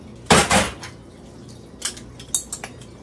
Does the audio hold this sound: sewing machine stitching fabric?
no